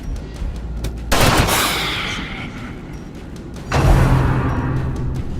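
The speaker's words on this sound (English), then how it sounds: "Grape shot" Two heavy grapeshot gun blasts from the video game Darkest Dungeon, each a loud booming crack with a long rumbling tail, the second landing a couple of seconds after the first.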